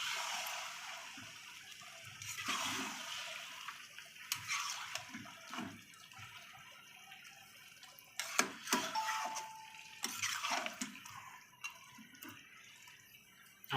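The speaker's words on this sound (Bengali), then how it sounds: "এবার একটু নাড়াচাড়া করে নেব।" Fish head and cabbage being stirred in a pan just after water is added for a Bengali home-style curry, giving wet scraping and watery splashing bursts at irregular intervals, moderately close and fairly quiet, with no talking.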